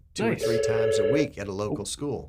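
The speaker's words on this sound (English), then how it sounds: "That's my phone. That's my phone. I'm just gonna let it ring." A telephone rings with a bright electronic tone beneath two people talking, the ringing coming in short bursts under their conversation.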